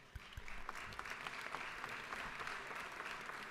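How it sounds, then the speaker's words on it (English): Applause in a legislative session chamber for visiting 4-H members, a short burst of steady clapping from a moderately sized room, fairly soft and continuous. "So let's recognize them for a round of applause."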